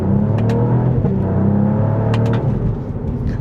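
A 2023 Cadillac CT4-V Blackwing sedan with a supercharged V6, heard from inside as a loud, sustained engine drone and rumble under acceleration, with a few brief higher whines and clicks, no talking.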